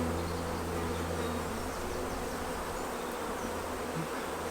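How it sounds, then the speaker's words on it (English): Honey bees buzz densely and steadily around a Miller-method hive frame during queen rearing, a close, continuous drone with no pauses and no voices. "brush the bees off"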